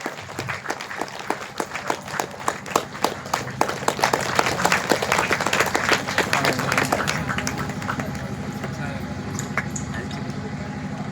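Crowd applause greeting the land donor invited onto a stage: many hands clapping, building from scattered claps into a dense, sustained ovation that softens slightly toward the end, with a faint voice underneath.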